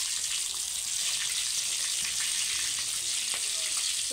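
Spice-coated fish pieces dry-fry in a pan at home. An even, hissing sizzle holds steady from start to finish, close and fairly loud, with faint crackles and no voices.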